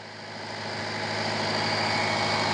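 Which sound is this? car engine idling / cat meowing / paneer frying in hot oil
car engine idling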